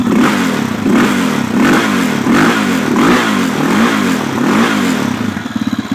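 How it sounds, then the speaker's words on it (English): A 2003 Yamaha Raptor 660 ATV engine revs loud and close in a steady rising-and-falling rhythm, slightly rich, then settles toward a lumpy idle at the end. "Most of the time it revs perfect, as you hear."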